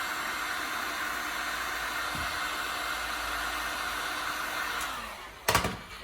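Heat gun blowing steadily on a G-body Chevrolet Malibu fender flare: a continuous close, airy roar that runs nearly throughout, then stops with a short clunk near the end.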